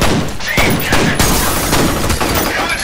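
Continuous loud video game gunfire in F.E.A.R., a dense barrage of overlapping shots with sharp bursts punching through a constant roar of battle noise.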